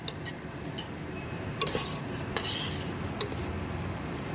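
Salted, turmeric-coated prawns sautéed in a pan for prawn pulao, with a steady low sizzle under scattered clinks and scrapes of a spoon against the pan, a few sharper knocks standing out.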